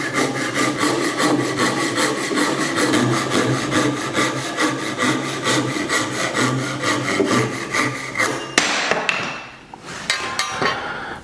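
A hand saw cuts through wood against a saw guide in steady, rapid back-and-forth strokes, close and loud, ending with a few knocks and rougher scrapes near the finish.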